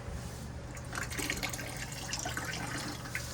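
Water from a Burnham Alpine ALP150W boiler teardown splashes and pours into a bucket in a short uneven gush, close and moderately loud, with no talk.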